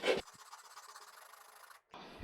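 Gentle hand sanding of wooden corners on a small beginner woodworking piece to remove wobble, a faint soft continuous rubbing stroke after a brief scrape, ending in a short pause and another rasp.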